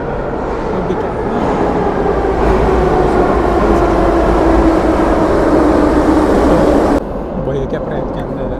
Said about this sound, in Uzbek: metro kelib qoldi.